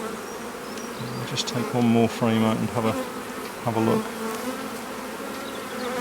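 Honey bees buzz densely around opened hive frames during an artificial swarm inspection, a constant near hum with louder passes of bees close by, while a person speaks briefly.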